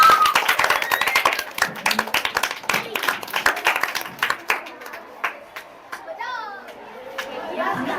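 Loud, sharp clapping by a crowd of schoolchildren welcoming prize presenters at a school learning-materials fair, rapid uneven claps close by, thinning toward the end, mixed with children's chatter and shouts.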